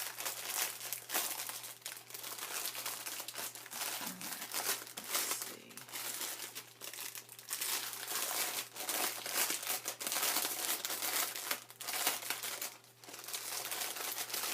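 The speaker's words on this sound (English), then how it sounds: "Sorry, all the crinkling. Close your ears." Gift wrapping is crinkled and torn during unwrapping: continuous close, loud paper rustling and crumpling with irregular bursts throughout, and no talking.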